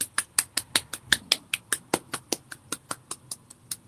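Hand clapping, a run of about twenty sharp, evenly spaced claps at a steady quick pace, close and clear with no talking.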